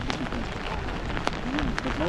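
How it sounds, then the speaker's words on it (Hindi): Heavy rain pouring steadily near Nathula Pass outside Gangtok, a dense close hiss of drops on surfaces with faint murmuring voices mixed in. "बारिश काफ़ी तेज होने लग गई थी"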